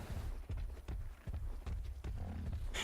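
Horse hooves from the video game ARK: Survival Evolved clop in an irregular walking rhythm, soft thuds over a low rumbling background, with no voices.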